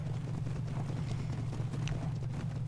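Horse hooves clip-clop in a steady run over a constant low engine-like drone in a Western video game, the footfalls moderately loud and continuous throughout.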